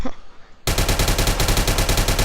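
Rapid automatic gunfire in the shooter video game BeGone: a loud, close burst of evenly spaced shots starts abruptly after a quiet moment and continues without pause.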